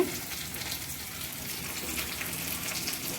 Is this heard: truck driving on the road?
no